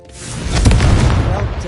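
Confringo blasting spell explosion in Hogwarts Legacy, a single loud, close boom that swells and rolls on for over a second, with a voice underneath.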